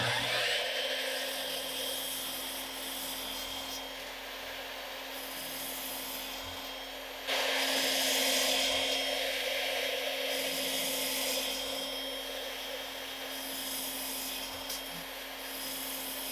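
Miter saw cutting wood at a saw station fitted with dust collection, a steady loud whine and rasp throughout with a louder cut near the middle, running alone without talk.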